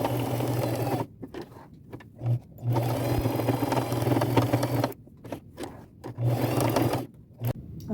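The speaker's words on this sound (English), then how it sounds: "Now I just need to sew them on, just staying close to the edge with a small straight stitch." A sewing machine runs a small straight stitch along the edge of fabric flowers on a thrifted jacket, in steady humming bursts with short pauses between runs, close and clear.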